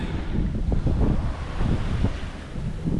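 Wind buffeting a sailboat on gentle rolling swells, a loud, steady low rumble of wind noise against the microphone mixed with soft wash of waves, continuous throughout without speech.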